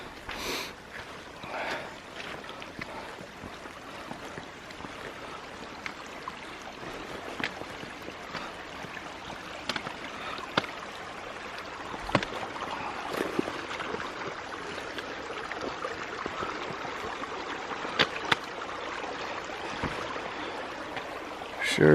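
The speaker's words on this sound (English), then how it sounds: "why not one more water crossing before we get down into Winding Stair Gap?" A hiker on the Appalachian Trail wades through a stream crossing, with steady running water close by and occasional splashes and footfalls, and no talking.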